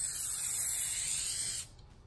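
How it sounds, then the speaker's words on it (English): A special effects spray hisses steadily from an aerosol can into a box for about a second and a half, close and loud, then cuts off abruptly. "It's a special effects spray that I'm going to spray into this box"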